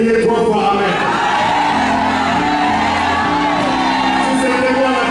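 A church congregation at an alliance-day service shouts together in a loud, sustained crowd roar of whoops and yells that fills the whole stretch without pause.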